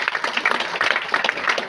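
An audience at an award ceremony claps in a short burst of dense, even applause that holds steady for under two seconds.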